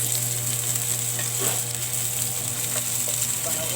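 Minced garlic and onion sautéing in a pan for beef sarciado, a steady close sizzle and hiss with a low background hum and a few faint stirring clinks, no talking.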